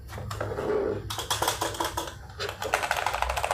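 Keys clatter rapidly on a Zebronics gaming keyboard with a metallic top body, close and crisp, in fast irregular bursts with brief pauses between runs of typing.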